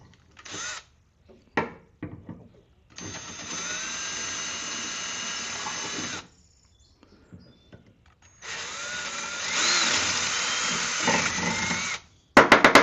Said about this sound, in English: So I've got 5/16 drill bit. I'm going to enlarge the holes first.